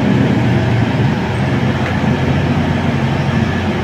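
A feeder train sits at a station platform while passengers board, giving a loud, steady, broad rumble with no voices.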